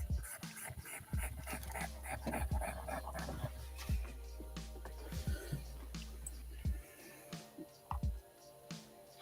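A small dog pants and whimpers close by in a series of short, uneven breaths and soft whines, with steady low background hum underneath.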